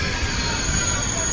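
TGV high-speed train arriving at Lyon Part-Dieu station, a brief steady rush of rail noise with high squealing wheels against the track.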